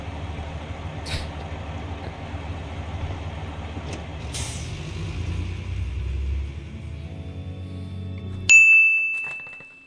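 Bus in the video game Life Is Strange rumbles and drives steadily with a low engine drone, then a sharp loud hiss of air brakes bursts out near the end and fades.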